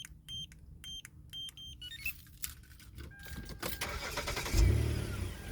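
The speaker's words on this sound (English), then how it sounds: "And now the car will start." A 2012 Hyundai Veracruz Limited fitted with a code-entry anti-theft device beeps several times, then the engine cranks briefly and catches, settling into a close idle rumble.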